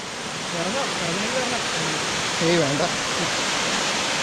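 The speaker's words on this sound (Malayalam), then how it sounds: "വെള്ളച്ചാട്ടം." A waterfall gives a broad, steady rushing roar that fills the clip evenly and loudly, with people talking briefly over it.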